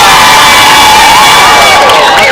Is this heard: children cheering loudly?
yes